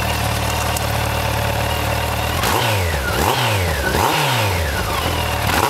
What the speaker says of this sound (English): And give it a burst of throttle, I think,